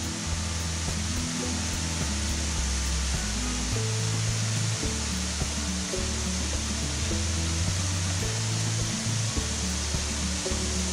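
Whitewater Falls, the tall cascade in the eastern mountains, running high with lots of water: a loud, continuous broadband roar of rushing water that holds steady throughout, with no voices.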